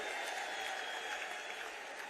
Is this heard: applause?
yes